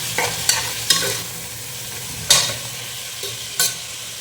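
A spoon stirs and scrapes through mutton gravy frying with potatoes and green chili, several distinct clanks against the pan over a steady low sizzle, close and moderately loud.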